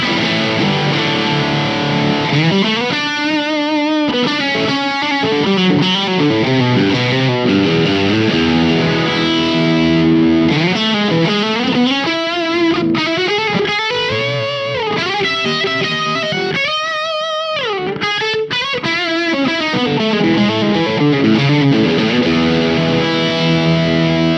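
Electric guitar through an Engl Retro Tube 100 tube amp with the gain cranked, playing loud, saturated lead lines with bends and sustained notes, close and continuous with one brief break.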